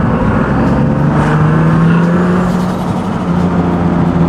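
A single turbo Nissan 370Z is driven, heard from inside as a loud, constant engine drone whose pitch climbs slowly as it accelerates, with steady road noise underneath and no talking.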